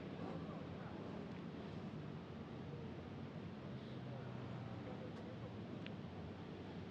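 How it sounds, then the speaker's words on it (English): Wind gusting across the open Sepang International Circuit during an afternoon qualifying session, a steady broad rushing roar buffeting the microphone throughout, with faint distant sounds under it. "the wind is picked up quite a bit throughout the afternoon"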